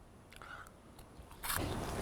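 A bite into a bright red Blazin' Hot Planters Cheez Ball gives a brief close crunch, with a louder burst of crisp chewing toward the end over quiet room tone.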